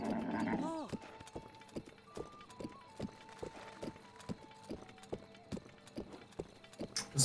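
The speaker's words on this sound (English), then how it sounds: "Cause yeah, it is a wild horse, so we do need to tame it a bit." A wild horse in The Legend of Zelda: Breath of the Wild clip-clops along a road, its hooves beating in a steady rhythm after a whinny at the start, with some tonal game sounds underneath.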